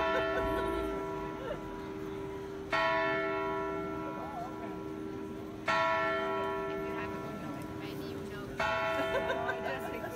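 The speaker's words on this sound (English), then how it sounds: "Is he going to ring the bell up there?" A church bell in Switzerland tolls the time, three loud, ringing strikes spaced about three seconds apart, each decaying slowly into a sustained hum, with faint voices in the background.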